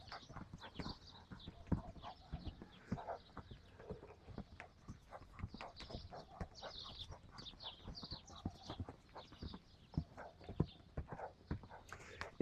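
Horse hooves trotting in an arena, a steady run of soft, irregular clip-clop thuds at moderate distance over about twelve seconds, with light background noise.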